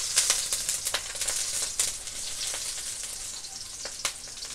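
Garlic sautés in a pan for stir-fried kangkong, giving a bright crackling sizzle with frequent sharp pops, loud and close at the start and easing slightly toward the end, with no voices.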